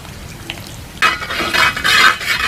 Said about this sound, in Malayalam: ഇതിലത്തെ ഇഞ്ചി നന്നായി മുരിക്കും